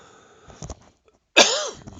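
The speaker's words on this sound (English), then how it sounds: "I'm really having a tough time today with my little hacking cough." A single harsh cough bursts out after a short near-silence, preceded by faint rustling; close and fairly loud.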